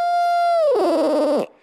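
A Mark Prudhomme owl hooter call from Nightingale imitates an owl: one loud, close, sustained hoot that slides down in pitch into a rough, warbling trill, heard alone and cut off sharply.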